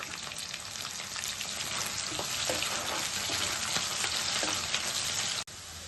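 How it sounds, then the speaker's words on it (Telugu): Onions and curry leaves fry in a pan with a constant crackling sizzle, loud and close, running steadily before cutting off abruptly just before the end. "ఇలా వేగుతున్న ఉల్లిపాయలో కొంచెం కరివేపాకు వేసుకున్నాం"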